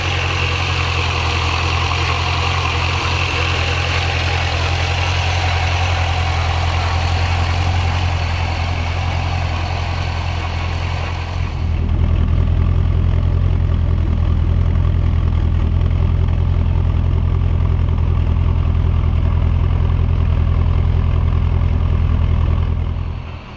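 Twin-turbo C6 Corvette idling while it warms up, a steady deep engine drone with low rumble throughout, turning louder and fuller about halfway through and holding that level before cutting off abruptly at the end.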